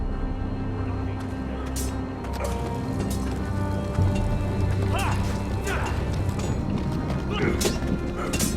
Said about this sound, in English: On a horse, no less.